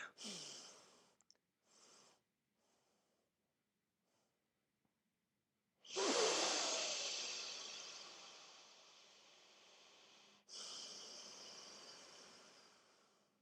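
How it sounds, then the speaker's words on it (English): Deep breathing through the nostrils: a few short sniffs, then a long, loud airy exhale lasting several seconds, followed by a strong, steady inhale, close and alone. "I'm going to deepen my breath on the exhale in order to deepen my breath on the inhale"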